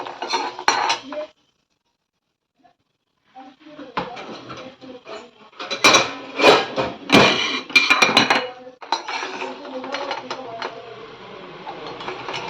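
Fried lentil dumplings are lifted out of a frying pan with bursts of metal scraping and clattering utensils, broken by a couple of quiet gaps, and people talk between the clanks.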